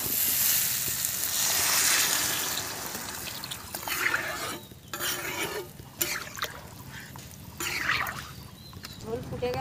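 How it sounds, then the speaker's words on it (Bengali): Water poured into a pan of fried spices and potatoes while cooking a Bengali fish curry, a steady hiss and sizzle with liquid splashing, fairly loud and close, easing into quieter bubbling. "এবারে আমি জল ঢেলে দেবো।"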